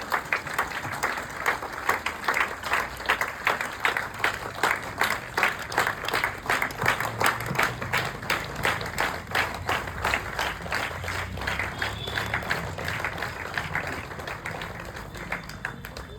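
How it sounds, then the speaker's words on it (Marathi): Sustained rhythmic applause from an audience at a women's running event, with steady clapping bursts continuing throughout and a faint voice briefly beneath. "आपण जरा टाळ्यांचा आवाज केला तर फार छान वाटेल"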